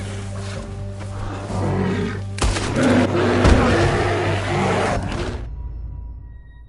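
A bear roaring in the video game Red Dead Redemption 2, a loud, rough, sustained growl that swells and peaks midway before cutting off abruptly, over low game ambience.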